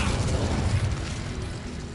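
The Incendio fire spell from Hogwarts Legacy goes off as a loud, dense burst of roaring flame that dies down gradually over two seconds.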